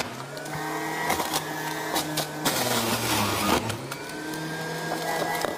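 An electric juicer extracts juice from carrots, its motor whirring with a loud, wavering hum that rises and dips as the carrots feed through, with brief crunching bursts and no voices.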